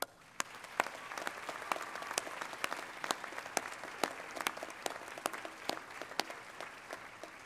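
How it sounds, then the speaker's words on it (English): Sustained crowd applause at a university commencement ceremony for graduates' friends and family, many hands clapping steadily in a large hall, with a few sharp louder claps standing out. "would you please join me in a round of applause for your friends and family?"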